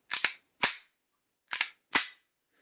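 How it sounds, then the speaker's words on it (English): A Beretta 92-pattern pistol slide slams home four times at uneven intervals, each a sharp, close metallic clack with a short ringing tail, heard alone with silence between strokes. "I want you to listen to the slide when it goes home"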